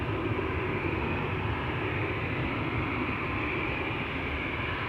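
An Aer Lingus airliner takes off from the Polderbaan runway at Schiphol, a steady, moderately distant jet roar with broad rumbling noise and no voices.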